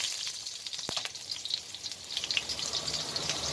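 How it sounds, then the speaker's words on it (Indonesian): Garlic fries in hot oil with a bright, continuous crackling sizzle heard close up, one sharp pop early on, then a dense steady hiss with no talking. "minyak sudah panas aku masukkan bawang putihnya"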